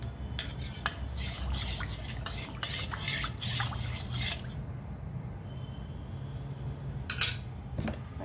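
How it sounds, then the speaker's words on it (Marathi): A utensil stirs and scrapes through thick flour batter for kadhi in a bowl, breaking up lumps, steady brisk strokes for several seconds, then a pause and a couple of sharper clinks. "ते याने मिक्स करून घेऊया, गुठळ्या राहायला नको"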